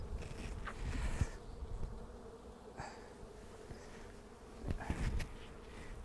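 Honeybees buzz around a hive as boxes and an inner cover are set in place, a soft continuous drone with brief nearer passes and a few light knocks of equipment, no talking.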